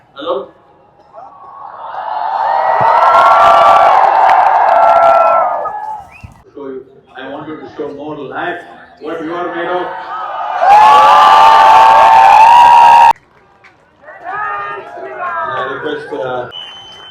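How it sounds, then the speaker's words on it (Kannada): A large crowd at a Mahashivratri gathering at the Adiyogi statue in Coimbatore roars and chants Jai Shri Ram in loud, sustained swells, with shorter bursts of shouting between them. "ಜೈ ಶ್ರೀರಾಮ್ ಘೋಷಣೆ ಬರ್ತಾ ಇದೆ ನೋಡಿ"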